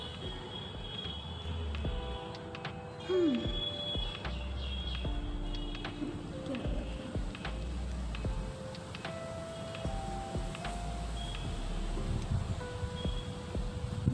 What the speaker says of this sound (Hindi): अच्छी हवा चल रही है यार।